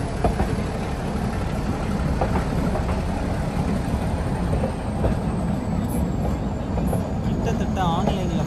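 The Nilgiri toy train runs slowly from Ooty toward Coonoor, a steady low rumble of wheels on rail and a running engine heard from on board, with brief squeals and faint voices near the end.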